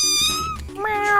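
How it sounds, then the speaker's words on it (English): A cat gives a single drawn-out meow that rises and then falls in pitch, loud and close, with speech faintly present beneath it. "Tasha, So this is a cat."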